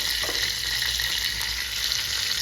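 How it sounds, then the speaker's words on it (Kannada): Mustard seeds and cumin sizzle steadily in hot oil while tempering chutney, a loud continuous close frying hiss with faint crackles and no speech. "ಚಟ್ನಿಗೆ ಒಗ್ಗರಣೆ ಕೊಡಿ ಒಗ್ಗರಣೆಗೆ ಎಣ್ಣೆ ಸಾಸಿವೆ ಮತ್ತು ಜೀರಿಗೆ"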